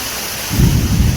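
Thunder from a sudden monsoon cloudburst over a Konkan village, with heavy rain: a deep rumbling crack bursts in halfway through after steady hiss, loud and close, no voices.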